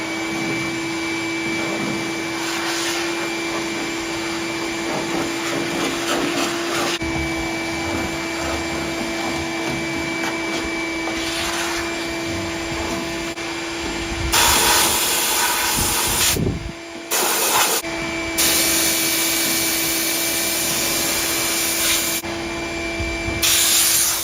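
Compressed air blows dust out of a C10 truck cab; a steady tonal hum runs under the first half, then long, loud hissing blasts of air come in several bursts with short breaks between them.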